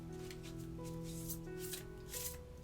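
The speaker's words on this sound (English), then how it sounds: "this is how I shuffle" Oracle cards being shuffled by hand during a tarot-style reading, a steady papery rubbing and riffling with brief louder bursts, close and fairly quiet under a faint tonal background, with no talking.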